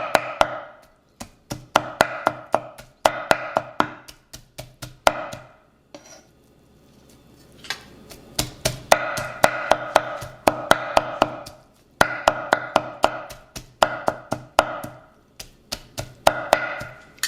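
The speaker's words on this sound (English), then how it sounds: "So I'm just gonna keep on chopping it up." Charred al pastor pork chopped with a knife on a board, a steady run of sharp rapid chops in bursts with a short pause midway, close and clear.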